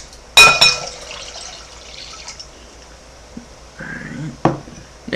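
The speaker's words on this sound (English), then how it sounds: "put 3 cups of water into a bowl" Water poured into a bowl for a kitchen science experiment, with a sharp splash and clatter at the start, then quieter trickles and a second brief pour with knocks near the end.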